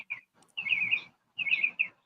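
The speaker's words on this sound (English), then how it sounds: "You hear the birds?" Several bird chirps ring out in a front yard outdoors, arriving in two short bursts of bright, high tweeting separated by a brief pause, fairly close and clear with no talking.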